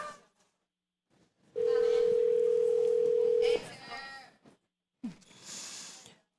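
A ringback tone on a call to a cell phone plays as a single steady tone for about two seconds, moderately loud, with people talking before and after it.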